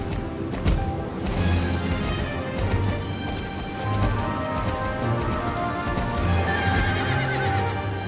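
A horse in the Star Stable video game neighs and whinnies while its hooves clip-clop steadily, all over a continuous, fairly loud game soundtrack.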